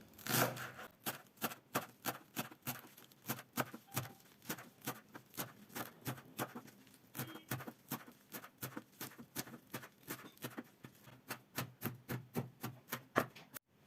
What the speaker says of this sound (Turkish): Şimdi yarım demet maydanozumuzu küçük küçük kıyalım.